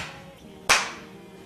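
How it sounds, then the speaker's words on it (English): A single sharp hand clap marks the start of filming, one loud close snap that decays quickly into a quiet room. "Let's have a clap."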